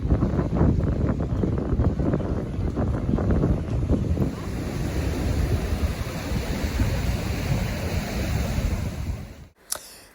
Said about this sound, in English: Because of the wind, you won't be able to hear it.